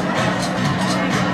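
At a sports club summer event, a dense crowd roars with applause and cheering, a brief, loud, continuous wash of noise with no pauses.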